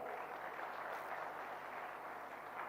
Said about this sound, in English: Ladies and gentlemen, with a huge round of applause